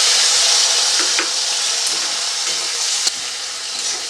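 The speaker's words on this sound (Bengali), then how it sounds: "এর মধ্যে আমি দিয়ে দিচ্ছি একটা বড় সাইজের পেঁয়াজ কুচিয়ে রেখেছিলাম," Chopped onion, a large one, frying in a pan while a Bengali fish curry is cooked: a steady, loud, bright sizzle throughout with a few small crackles and pops.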